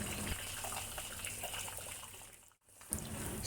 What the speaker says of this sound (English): Heat up some oil and pour the beaten egg into the wok